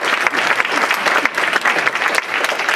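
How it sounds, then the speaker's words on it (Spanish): A church congregation applauds together, dense, loud and continuous clapping with a few cheers, sustained without a break. "Denle un aplauso al Señor."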